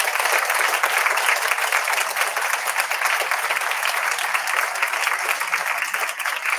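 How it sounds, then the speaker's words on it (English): Sustained audience applause, loud and even throughout, a room full of people clapping together with no voices on top. "can we have a really big round of applause so Sarah can hear it?"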